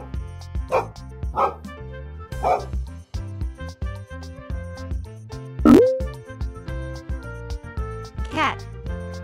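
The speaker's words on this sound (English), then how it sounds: "Dog." A dog barks a few times over a bouncy musical backing, with a whistle-like slide partway through.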